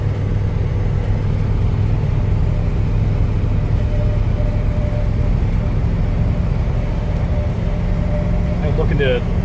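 An RV's carbureted engine accelerates on the primaries only, a steady loud low drone with a broad rushing roar filling the cabin, continuous for several seconds and ending with a brief clatter.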